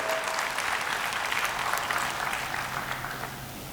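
An audience at a retreat and sixth-anniversary gathering gives the volunteers a big round of clapping, dense and steady, then gradually thinning toward the end with no voices.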